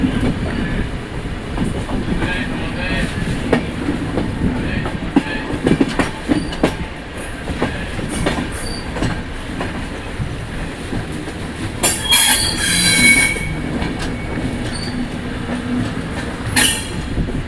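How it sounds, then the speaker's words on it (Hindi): The Pashchim Express rolls out of Kurukshetra Junction with continuous rumbling and clattering wheels over the rails, plus bursts of high metallic squeal around the middle of the passage, heard from onboard without speech. "तो अब हमारी ट्रेन निकल रही है कुरुक्षेत्र जंक्शन से।"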